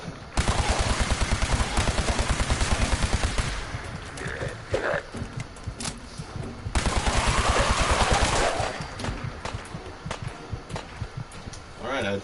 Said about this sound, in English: Automatic laser pistol.